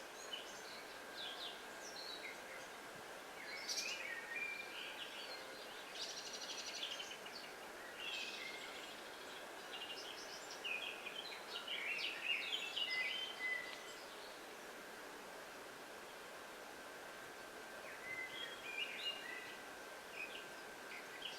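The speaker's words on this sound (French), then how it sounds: "Les sons de la nature, le chant des oiseaux." Birds sing outdoors in nature with scattered, faint chirps and short warbles, some nearer and some farther off, over a soft, steady background hiss.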